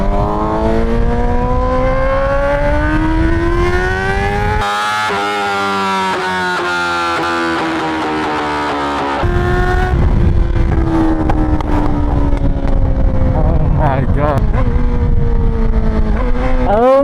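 Straight-piped 2020 Yamaha R6 sport bike revving hard, a loud, raw, high-pitched engine wail that climbs and falls through several sharp rev sweeps, with crackling pops near the end.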